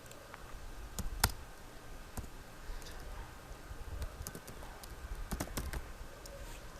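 Mouse clicks on a computer running MS Word 2016: a series of sharp, irregular clicks of varying loudness, one notably stronger, over a faint steady background hum.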